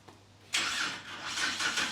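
F6 engine cranks and catches, then settles into a running hiss-tinged rumble with slight swells in level. Heard fairly close after a short quiet lead-in, with no talking over it.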